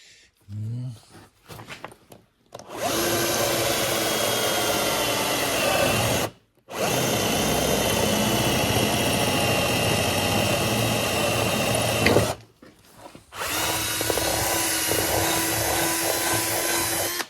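A power drill bores into a Sea-Doo engine mount with a small-diameter bit, making a loud, sustained whine in three long bursts separated by brief pauses and preceded by some short handling noises.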